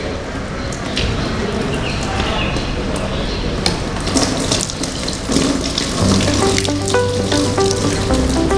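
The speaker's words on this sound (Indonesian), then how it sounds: "kita mencuci tangan menggunakan air mengalir" Tap water runs steadily into a sink while hands are washed under the flow, a continuous close splashing hiss that holds throughout with a faint low hum joining near the end.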